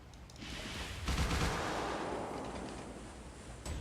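Warship firing torpedoes in the naval battle game Refight: The Last Warship: a distant heavy boom and rushing roar swelling after the first second and trailing off, fairly faint, with no talking.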